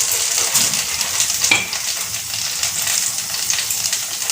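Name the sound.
long beans (barbati) frying in oil in a pan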